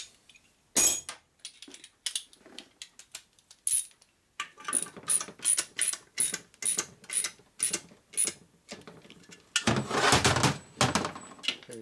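A hand ratchet tightens dowel studs on a 1946 Harley knucklehead motor: after a few scattered clunks, a steady run of sharp, evenly spaced metallic clicks rings close by, ending in a denser, louder burst of clattering.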